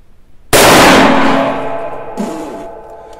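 A single loud, close shot from a Smith & Wesson 629-3 .44 Magnum revolver cracks sharply and rings out in a long fading decay, with a faint metallic knock partway through the tail.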